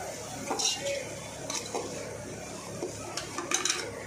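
White onion is stir-fried for fried rice, a spoon scraping and clinking against the pan in a few separate strokes over a soft, quiet sizzle.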